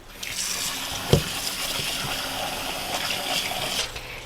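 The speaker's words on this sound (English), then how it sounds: "I'm just going to run cold water over it." Cold tap water runs over food being rinsed in a kitchen sink, a steady close gush with a brief splash knock near the start.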